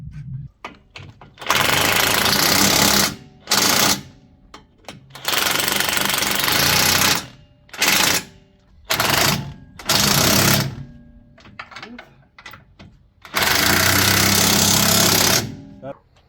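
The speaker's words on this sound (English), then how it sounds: "We're gonna drill because sometimes when you get parts used, they're from a different year vehicle" A power drill bores into a used Jeep part, loud grinding bursts that start and stop several times, with short pauses between them and people talking.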